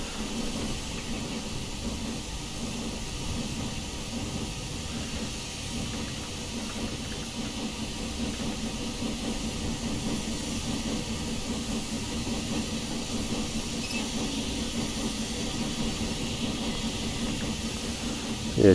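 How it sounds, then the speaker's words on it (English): Steam hisses steadily from the injector of a Highland Railway Jones Goods 4-6-0 locomotive in Train Simulator Classic, a continuous broadband rush that holds at an even level throughout with no talking. "It should start pushing steam out here for our injector, which it does."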